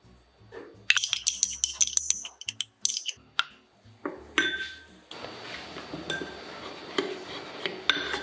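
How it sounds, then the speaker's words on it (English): Sambal sauce and honey being stirred together in a bowl, with close, irregular clinks and scrapes of a utensil against the dish, loud taps early on settling into steadier clattering, no talking. "Mix all the sauces and set aside."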